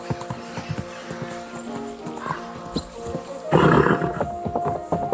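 Horse hooves clopping in the Kingdom Come: Deliverance 2 video game, a run of close, rhythmic hoof thuds with loud rustling and shuffling noise swelling in the second half.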